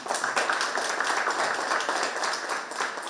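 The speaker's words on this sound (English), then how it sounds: "Please let's give her another round of applause." A university speech-competition audience gives a contestant a steady round of clapping, moderately loud and continuous with distinct hand claps audible across the crowd for the full stretch.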